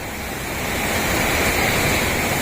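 A heavy rainstorm with strong wind roars as a dense, steady wash of noise, close and loud, with no voices.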